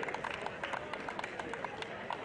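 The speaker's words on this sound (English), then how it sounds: "Give them a round of applause." Audience applause at a football presentation ceremony honouring an Australian Hall of Fame inductee, a dense, steady patter of many hands clapping at moderate distance throughout, with faint crowd murmur mixed in.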